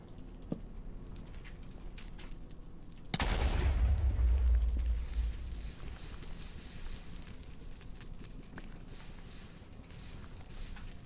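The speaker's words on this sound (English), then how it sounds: "Explosions cause a lot of fire." In the Minecraft video game, a single loud blast booms up close and rolls into a sustained low rumble, then fades into the crackle and patter of fire, with small clicks scattered around it.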